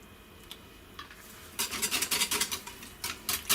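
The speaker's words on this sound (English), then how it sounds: "Mix that through." Chocolate mud cake batter with vanilla extract is stirred in a bowl, producing a run of rhythmic wet scraping and sloshing strokes, near and fairly quiet, after a few light clicks.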